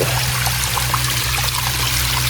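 Continuous rushing and trickling of a clear village river in the rainy season, loud and close, with a low steady rumble underneath and no voices.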